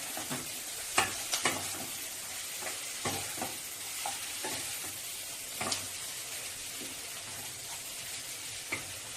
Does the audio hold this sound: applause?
no